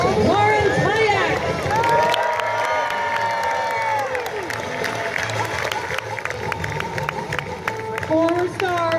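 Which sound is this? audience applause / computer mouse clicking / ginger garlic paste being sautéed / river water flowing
audience applause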